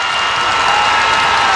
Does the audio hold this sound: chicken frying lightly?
no